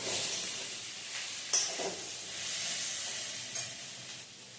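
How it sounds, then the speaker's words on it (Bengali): Chili chicken frying in a pan produces a soft, continuous sizzle and hiss with faint stirring bumps, fairly quiet and with no voices. "এটাকে ভালো করে ভাজা হয়ে গিয়েছে।"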